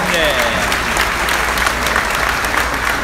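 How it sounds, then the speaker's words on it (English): An audience at a Belleville Senators hockey jersey launch gives a big, sustained round of applause for general manager Randy Lee, loud and dense with voices in the crowd blended in. "Let's get a massive round of applause for Randy."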